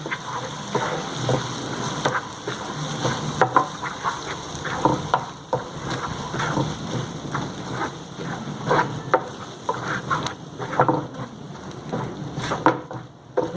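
Ivy gourd chutney stirred through hot oil in a pan, giving a steady dense crackle and scrape that keeps going for the whole stretch, with no talking.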